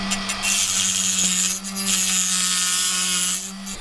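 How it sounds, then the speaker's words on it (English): A Dremel spinning a diamond wheel while cutting through white material on a GE Talaria projector light valve, a loud steady high-pitched whine with grinding friction and a brief dip as the cut eases. "this Dremel diamond wheel is actually fairly effective at cutting through this white stuff"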